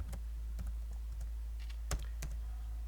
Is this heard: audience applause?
no